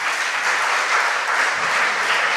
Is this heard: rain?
no